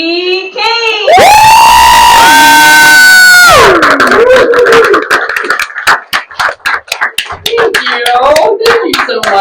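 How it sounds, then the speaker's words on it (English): Loud audience cheering and applause at a live comedy show, with whoops and screams rising over a roaring crowd, then settling into dense, close clapping that carries on steadily. "please give a big round of applause for Jackie Kane"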